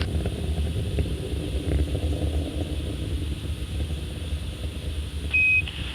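Space Shuttle Atlantis on the STS-43 launch from Complex 39A, its three main engines throttling up into a steady, deep roaring rumble that holds constant, with a brief electronic beep near the end.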